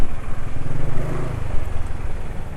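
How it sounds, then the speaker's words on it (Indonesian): A two-stroke motorcycle engine running on Motul 510 2T oil, giving a steady, muffled low idle-like drone close to the microphone with no speech. "Suara mesin teredam ya."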